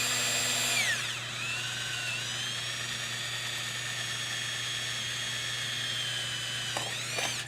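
A power drill bores into sheet metal, whining up to a steady high-pitched drone that holds for several seconds before spinning down, loud and close.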